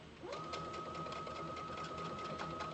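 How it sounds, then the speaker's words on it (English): A home sewing machine runs steadily while backstitching a seam on a t-shirt dress, giving a continuous close, even mechanical whir and rapid needle rhythm that holds for nearly three seconds. "Oh, don't forget to backstitch."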